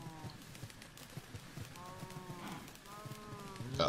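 Cows mooing in the Minecraft video game, several drawn-out lowing calls rising and falling in pitch, spaced across the clip over a soft steady background, with a louder burst at the very end.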